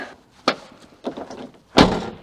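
A few dull thunks as a BMW M2 door is pushed shut, ending in one solid, louder slam close by.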